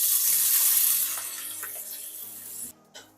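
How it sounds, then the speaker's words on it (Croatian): Starchy pasta cooking water is poured into a pan of chili and soy sauce in a home kitchen, a steady splashing stream that tapers off and stops, with soft music underneath. "Dodamo malo vode iz paste."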